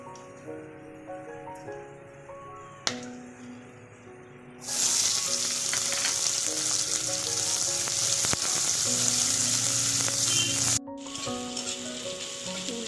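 Chopped onion dropped into hot oil with dried chili, bay leaf and whole garam masala for bhetki fish-bone chorchori, bursting into a loud, steady sizzle that runs close and continuous over faint background music, with a brief break near the end.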